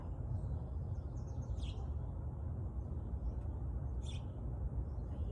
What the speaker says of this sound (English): I hear a sparrow chirping in the background, just a common house sparrow.